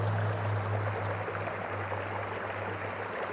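The Jemez River runs past a campground in New Mexico, a close, steady broadband rush of flowing creek water with a faint low hum underneath.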